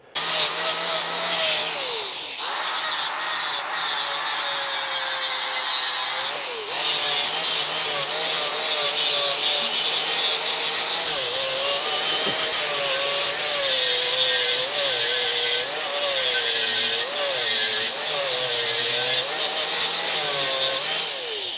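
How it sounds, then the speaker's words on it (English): An angle grinder cuts through a steel conex container frame with a steady, high-pitched whine and gritty abrasive hiss, pitch dipping briefly as the disc bites, loud and close with no talking. "So I'll grab a grinder and I'll get to grinding."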